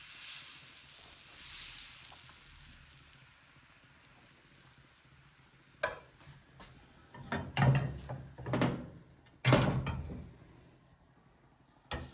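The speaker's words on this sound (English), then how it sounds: "that's the air coming out of the Testi and not one of us" Air escaping from hot terracotta testi pans while chestnut-flour necci are made, a few soft hissing, puffing bursts in fairly quick succession after a quiet stretch, close by.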